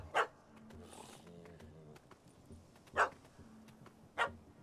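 Video game dog barking in The Witcher 3: Heart of Stone, three sharp single barks spaced a few seconds apart over a quiet ambient game background with faint low music.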